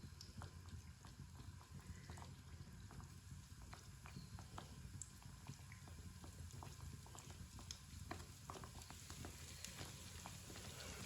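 Faint, steady bubbling crackle of pieces of breakfast dough frying in hot oil over a lowered flame, with a continuous fizzing bed and scattered light pops throughout, no voices.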